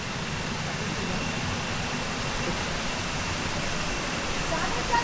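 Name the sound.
water flowing out near a cave in Meghalaya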